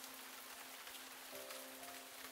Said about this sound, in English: This rain isn't stopping and sundown will be upon us soon.